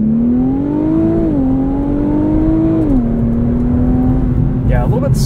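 A 2022 Infiniti Q50 Red Sport 400 in Sport Plus mode pulls away from a standstill, its engine a loud, steady drone heard from inside the cabin, with the pitch stepping up and down slightly as it accelerates.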